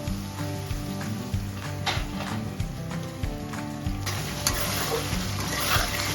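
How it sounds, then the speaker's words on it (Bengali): A spoon stirs dahi katla fish curry as it fries in a pan, scraping and knocking over a steady sizzle of oil. The strokes are close and repeat in a loose rhythm. "ভালো করে নাড়াচাড়া করে এটাকে ঢেকে দিন।"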